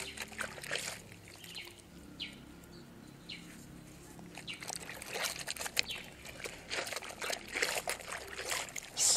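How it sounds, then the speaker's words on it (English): A handkerchief is rubbed and squeezed with soap in water, giving irregular wet splashes, trickles and sloshing squelches up close, with faint birdsong in the background and no talk. "let me now wash my handkerchief"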